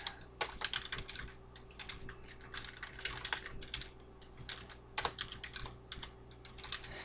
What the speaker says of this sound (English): I'll just type something real quick here.